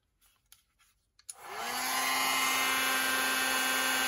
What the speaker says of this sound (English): I'll flick off any little excess and heat it with a heat tool.